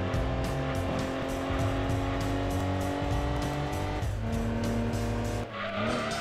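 Racing cars slide with oversteer in the Gran Turismo 2 video game, with a continuous loud engine drone and sustained tire squeal throughout and a brief dip in the revs near the end.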